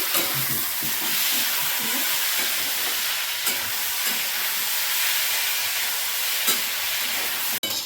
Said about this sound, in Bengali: তো দেখো এখানে আলু ভাজা আমি বসিয়ে দিয়েছি।